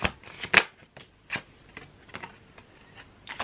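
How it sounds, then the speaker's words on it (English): Oracle cards from a Matters of the Heart deck being shuffled by hand, a run of quick papery riffles and flicks with a few sharper slaps, close and fairly quiet. "Let's get some cards from my Matters of the Heart deck."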